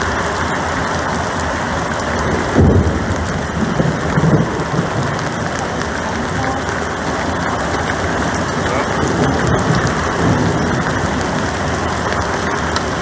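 A heavy Texas thunderstorm pours loud, constant rain onto a surface outside an RV, with thunder booming early and again a few seconds later under the roar.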